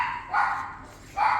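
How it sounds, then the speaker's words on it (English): Dogs bark indoors, set off by a car outside: two short, muffled barks about a second apart, faint against a quiet room. "Excuse the dogs."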